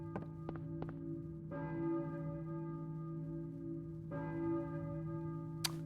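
A church bell tolls in a video game, slow, resonant strikes with a long ringing decay, heard twice, over a steady low ambient hum and a few faint knocks.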